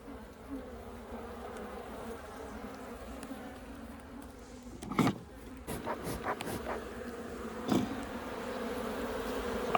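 Honeybees buzzing from the opened brood nest of a hive during an October inspection: a continuous low drone of many bees, fairly quiet and steady, with occasional closer buzzes and handling clicks over it.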